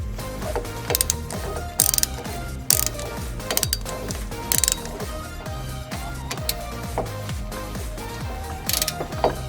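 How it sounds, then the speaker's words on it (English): A hand ratchet clicks steadily while tightening U-joint strap bolts on a Jeep Wrangler, its rapid close metallic pawl ticks coming in short repeated strokes with brief pauses. "we're gonna tighten these down and then torque them to 14 foot-pounds"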